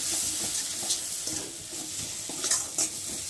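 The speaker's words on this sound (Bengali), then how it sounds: "আর এখন একটু ভালো করে নেড়ে নেব" Spice paste for egg curry being stirred in a pan, with a steady close sizzle and repeated soft scraping strokes of the spoon, plus a couple of sharper clinks near the end.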